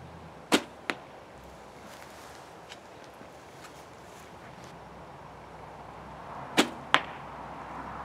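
A traditional bow by Dan Toelke shot outdoors, two sharp string snaps with arrow impacts near the start and two more near the end, over a faint windy background.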